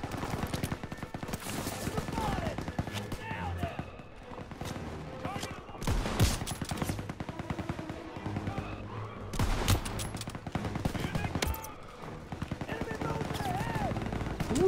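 Sustained machine-gun bursts and rifle fire in a WWII shooter game, dense rapid cracks rolling across the whole stretch with brief lulls, loud and close, while a player talks over the fighting.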